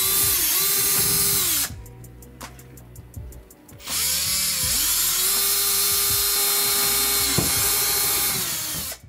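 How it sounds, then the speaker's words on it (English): A power drill bores holes through a plastic bucket lid for a drip irrigation setup, whining loudly and steadily in two long bursts with a short pause between, no talking. "I drilled some holes in the lid"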